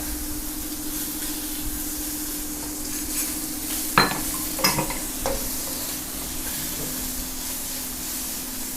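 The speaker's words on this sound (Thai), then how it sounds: "ผัดให้หมูสามชั้น กรอบเลย" Pork belly stir-fried in a pan: a steady, close sizzle of frying goes on throughout, with a few metallic scrapes and clinks of the utensil against the pan near the middle and no talking.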